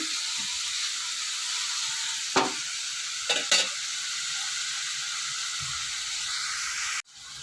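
Sliced onions with turmeric sizzle steadily in hot oil in a pan, a loud close frying hiss broken by a few scraping stirs of the spoon.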